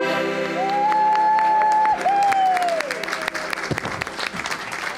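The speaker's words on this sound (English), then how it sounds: "give Harry a big round of applause" An audience applauds for Harry Walsh on his return home to Rathlin, steady clapping from a crowd while a sustained whistle-like tone glides above it and a voice speaks briefly.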